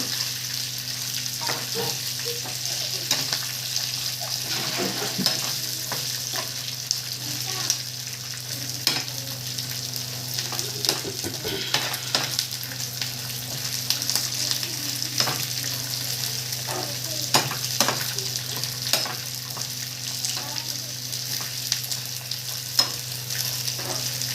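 Small punugulu fritters fry in oil over low heat, giving a steady, fairly loud crackling sizzle with frequent sharp pops and occasional stirring clinks, with no talk over it.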